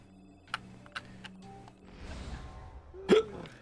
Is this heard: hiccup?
yes